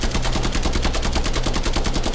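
Rapid automatic gunfire rattles in a steady, fast rhythm, loud and close, as a player shoots at an alien in a War of the Worlds themed video game.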